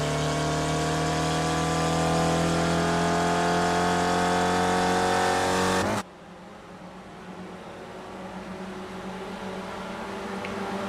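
A Ford race car engine in the iSpec racing game, a loud sustained harmonic engine drone that cuts off abruptly partway through, leaving a quieter, distant engine hum that slowly builds.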